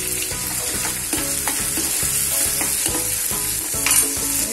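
Onions frying and being stirred in a pan with salt and extra asafoetida for Kolhapuri misal, a steady close sizzle with a regular scraping stir roughly every half second, no talking.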